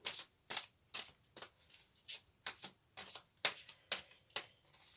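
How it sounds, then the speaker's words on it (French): Cards from a flower of life oracle deck are handled and drawn, giving about ten crisp, papery flicks and snaps in a quick, uneven rhythm, close and fairly quiet, with no voice. "Je prends une carte de fleur de vie."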